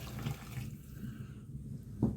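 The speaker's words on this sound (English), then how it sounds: "So I've got my water here, and we're just going to pour that in" Water poured from a container into a pot of simmering beef chili sauce, made with an 1890s recipe and the original brand of chili powder: a steady, close splashing pour lasting a couple of seconds, with a brief sharper splash near the end.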